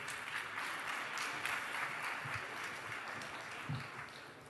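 A conference audience at a GlobeSec security forum applauds with steady, even clapping that fills the room at a moderate, somewhat distant level, with no voices over it.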